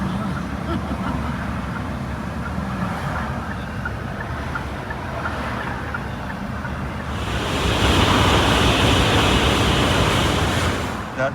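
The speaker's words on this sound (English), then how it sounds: "That sound was the bullet train, Shinkansen, going over our heads" Shinkansen bullet train passing on an overhead track in Japan, a loud broad rushing roar that builds and swells near the end over continuous street ambience.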